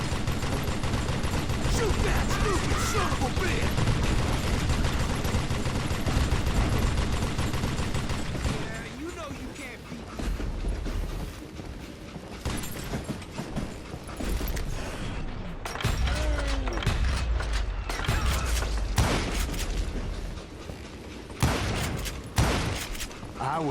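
Gunfire in the Western shooter Call of Juarez Gunslinger, dense bursts of shots and impacts rolling on through the stretch, loud at first and then in scattered volleys, with a voice talking over parts of it.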